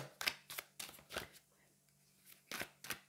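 Tarot cards being shuffled and handled in a reading, several close crisp slapping and riffling bursts with short pauses between them over a low hum.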